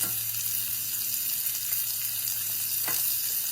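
Seafood fries in a pan with a steady, close sizzle, a couple of faint clinks or stirring touches breaking through, no voices.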